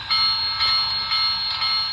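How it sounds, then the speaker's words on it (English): A Broadway Limited Imports Big Boy 4014 model locomotive's Soundtraxx decoder bell rings in a steady, even rhythm, four metallic clangs in quick succession, close and clear with no talking. "And let's try the bell."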